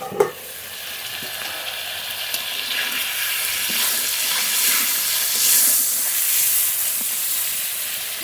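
Chicken and pointed gourd fry over a low flame in oil in a covered pan, giving a steady, moderately faint sizzle and hiss with one sharp knock at the start.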